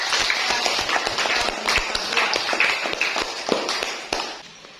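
Students in a classroom give a short round of applause, quick irregular clapping with sharp taps that fades out near the end.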